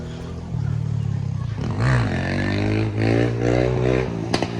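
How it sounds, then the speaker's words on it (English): A supermoto motorcycle rides past on a seafront, its engine rising and falling in pitch as the rider revs through gears, loud and close. "Dude on a supermoto."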